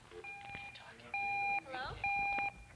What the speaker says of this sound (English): we have a phone. We have phone calls.